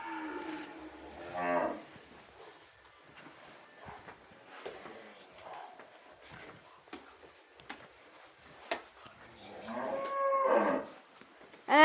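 Cows moo a few times while eating straw on a winter morning, low drawn-out calls nearby with a quieter one between, amid soft rustling and shuffling.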